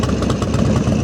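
An American Ironhorse Legend motorcycle engine runs just after starting, with a loud, close, steady lumpy idle and a rapid, uneven pulsing exhaust beat.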